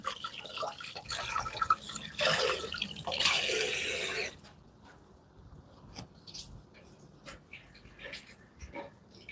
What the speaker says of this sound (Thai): ล้างน้ำแป๊บหนึ่ง